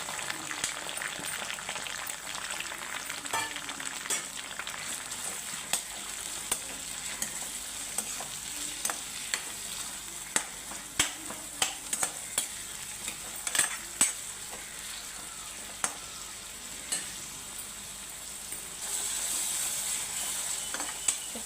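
Onions fry in oil for a broad beans masala curry, a continuous crackling sizzle with frequent sharp scrapes and taps of a spatula against the pan.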